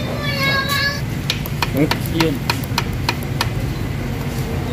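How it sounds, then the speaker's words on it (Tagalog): A Ford Ranger 3.2 diesel engine with piston pin knocking runs on a repair bench, giving a steady loud mechanical clatter with regular sharp knocks, while someone speaks briefly over it. "So napakalakas talaga ng piston pin knocking."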